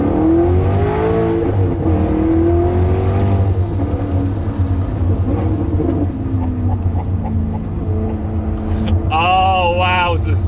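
A Maserati powered by a Ferrari V8 accelerates, its engine note climbing through revs from inside the car, loud and close, easing off midway before a sharp high-pitched surge near the end.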